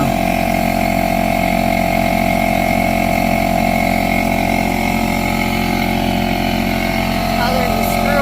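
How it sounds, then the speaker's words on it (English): A small air compressor runs steadily to inflate a tire, a loud continuous motorized hum and buzz with a sustained tone throughout, while people talk over it. "You gotta wait for the compressor to build."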